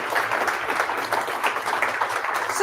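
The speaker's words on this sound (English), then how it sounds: "Can we give them a round of applause?" A short burst of audience applause at a Senate speaker series event, many people clapping in an even patter for military veterans in the room, moderately loud and alone.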